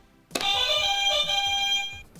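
A retro video game quiz contestant's buzzer blares as a steady, bright electronic alarm tone that starts abruptly and holds for nearly two seconds before cutting off, loud and alone.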